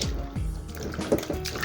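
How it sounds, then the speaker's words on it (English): Onions are lifted out of a basin of washing water, with short sloshing and dripping splashes close by, brief and alone. "Now we'll bring them out of the water."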